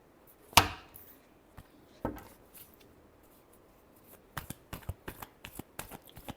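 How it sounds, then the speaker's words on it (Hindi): Tarot cards are shuffled in sharp riffles and taps, with one loud snap early on and a quicker burst of crisp clicks toward the end, close and without talking. "last shuffle"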